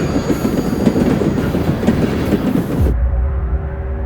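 A train rolls past close by, a loud, steady rumble with clattering wheels that suddenly drops to a lower, humming drone near the end.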